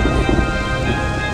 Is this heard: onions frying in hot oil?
no